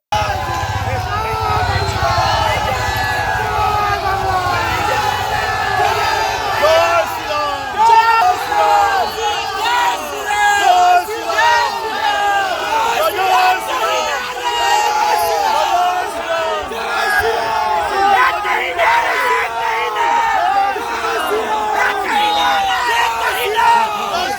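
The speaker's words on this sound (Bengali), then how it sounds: "তৃণমূল কর্মীরা জয় বাংলা স্লোগান দিতে শুরু করলে পাল্টা বিজেপি কর্মী সমর্থকেরা জয় শ্রীরাম স্লোগান তোলেন" TMC and BJP workers outside a nomination centre in Durgapur shout rival political slogans, a dense, loud crowd of overlapping chanting and yelling that carries on without a break.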